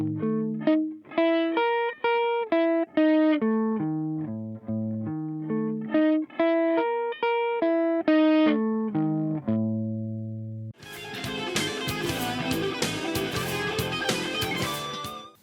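Clean-tone electric guitar sweep-picking runs across six strings, with fast plucked arpeggios climbing and falling in a steady rhythm for about ten seconds. After that comes a dense, buzzing, distorted strummed passage, loud and close.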